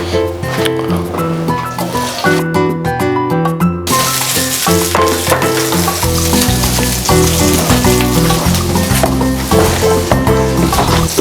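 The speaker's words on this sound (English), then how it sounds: "we've added a bit of olive oil and now we're gonna cook our foie" Foie gras sizzles loudly in hot olive oil in a pan for a Serrano ham paella, a dense continuous crackle and spatter with a brief quieter moment near the start, no talking.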